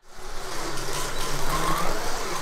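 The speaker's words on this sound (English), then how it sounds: "The thicker, more durable Carrera track really made the cars roar around like rolling thunder" Carrera slot cars on thick, durable plastic track make a continuous loud rumbling whir as they race around, steady and close with no pauses.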